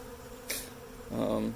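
Honey bees buzz around a cedar Flow Hive 2, a brief faint hum close by with a short higher whine, without voices.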